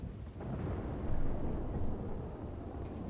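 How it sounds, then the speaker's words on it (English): Thunder rumbles through a Wild West roleplay video game, a low, rolling boom that swells and fades over a few seconds under a constant wash of stormy noise, with no talking. "those thunderclaps can get pretty loud"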